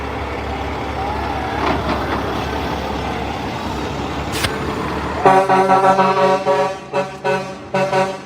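A truck rumbles past at an Independence Day parade, its engine droning with crowd noise around it, then its horn sounds in a series of loud, close, rhythmic honks.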